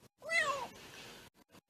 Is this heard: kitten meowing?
yes